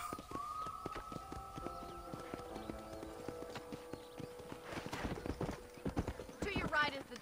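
Horse hooves in the Red Dead Redemption video game clip-clop in a steady rhythm beneath game music and voices, with a whinny and livelier hoofbeats toward the end.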